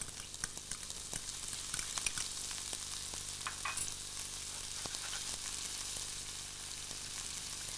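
Two chilies, two garlic cloves and onions fry together in a hot pan, giving a steady close crackling sizzle with scattered sharp pops and light spatters throughout, no voices.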